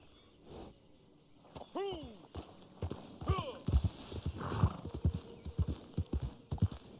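A horse in Red Dead Online whinnies twice in rising, quavering calls, then its hooves clop in a brisk, uneven rhythm that grows louder as it arrives, with talk underneath.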